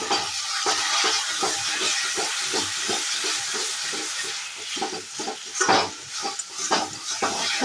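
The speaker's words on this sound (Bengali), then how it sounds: "আমি এখন মাটনটা বসিয়ে দিয়েছি মাটনটা মশলাটা কষা হোক" Marinated mutton frying with spices in a pan, a loud steady sizzle with repeated scraping stir strokes in an uneven rhythm throughout, close up and with no voices.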